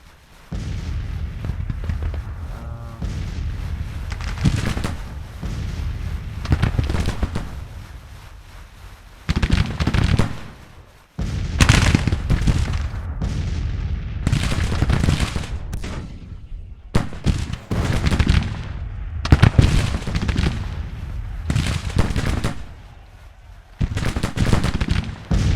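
Musket volleys and gunfire in a Civil War video game battle, loud dense crackling bursts and booming shots in waves with brief lulls between, up close and continuous.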